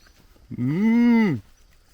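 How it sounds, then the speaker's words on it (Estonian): A cow gives a single loud, drawn-out moo lasting under a second, close by, with quiet surroundings before and after. "Need on lehmad."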